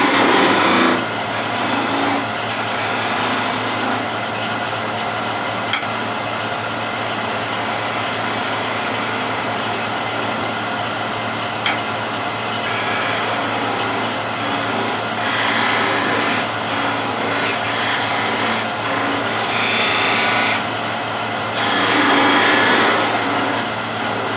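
A steady, loud machine whine runs throughout, like a power sander working a surface on a woodturning, with slight surges and dips in intensity.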